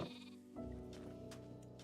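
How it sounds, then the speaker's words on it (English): Sheep in the Minecraft video game giving a bleat, a short nasal wavering call that shifts into a longer sustained cry, fairly clear and alone with no talk over it. "Sheep."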